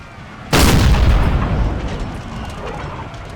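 A single loud, deep boom of cannon fire in Napoleon: Total War hits suddenly and rolls off into a long rumbling decay.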